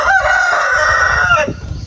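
A rooster lets out one loud, close crow lasting over a second, kept by chickens on a Philippine property, with faint background noise after it ends.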